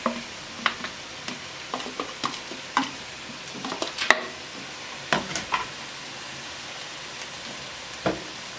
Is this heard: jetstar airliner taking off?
no